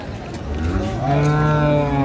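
A dairy cow bellows a single drawn-out moo at a cattle market where improved-breed milking cows and calves are sold, a loud, close, rising lowing call over low background chatter.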